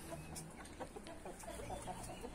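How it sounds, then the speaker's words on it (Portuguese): Hens and a rooster in a farmyard flock, with a large brown hen among them, clucking in soft, scattered bursts against steady outdoor background noise. "E esse galo aí já pegou essa galinha aí"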